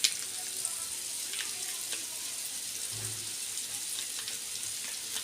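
Spice masala for a shellfish curry fries in a pan, a faint, steady sizzle with a few soft stirring scrapes and light taps.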